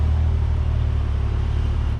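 A VW Golf R pulls away under launch control, its engine and road rumble holding loud and steady as the car accelerates hard, with no voices over it.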